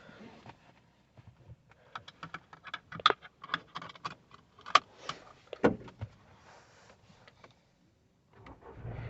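Seat belt being pulled out and buckled inside a Škoda Kushaq Style variant with a 1.0L 3-cylinder manual, a close run of sharp clicks, rustles and clunks with short quiet gaps, ending in a soft low rumble.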